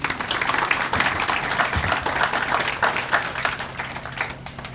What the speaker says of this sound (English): Again, let's have another round of applause for the mayor